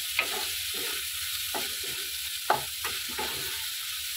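Chopped banana flower cooking down with sugar in a pan, a low sizzle broken by repeated scraping strokes of a spatula at a fairly even rhythm, close and moderately quiet.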